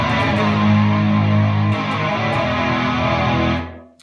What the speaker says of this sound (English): I use chorus, use delay, reverb, I mean quite a bit of it, lots of gain from the amp.